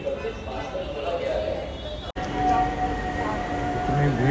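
A crowded metro train in India rolls along with a steady, heavy rumble and thin metallic squeals. The noise continues through a brief dropout, with voices mixed into the din.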